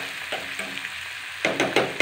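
Onions sizzle in a hot pan with bay leaf for rajma, a steady frying hiss with soft stirring scrapes that grow louder and more rhythmic toward the end, close, no talk.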